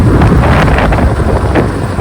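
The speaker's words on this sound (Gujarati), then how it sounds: "પવન અહીંયા બહુ છે" Strong wind buffets the microphone, a loud, continuous roar with gusty swells and no voices.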